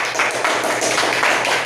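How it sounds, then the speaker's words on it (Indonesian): A classroom group clapping for fellow students after their presentation, a short, dense burst of many hands patting at close range, steady and loud with no one speaking. "Tepuk tangan buat kelompok."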